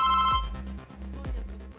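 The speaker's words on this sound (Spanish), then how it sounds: "Y ahí suena el teléfono." A telephone rings on a TV game show set, its electronic bell tone sounding steadily at first and then in broken bursts amid studio noise, with sharp thuds under it.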